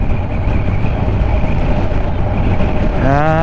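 A Kawasaki Ninja 1000SX motorcycle cruising at a steady 70 on cruise control: a constant loud roar of engine and wind rushes past the rider without a break, and a faint whine rises near the end.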